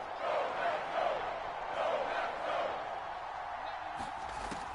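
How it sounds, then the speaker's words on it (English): Crowd cheering in an American football video game ahead of a big third down, a steady, swelling roar of many voices that stays dense and distant throughout, with a commentator talking over it. "The crowd getting into it as we come up on a big third down."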